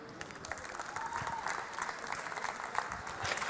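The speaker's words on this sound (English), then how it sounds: "you give a very warm and welcoming applause" Steady applause from an audience, moderately loud and continuous, with a few voices faintly mixed into the clapping.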